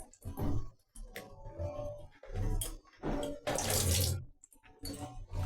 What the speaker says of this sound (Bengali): এবার আমি এর সঙ্গে 1 বাটি জল দিয়ে দিচ্ছি।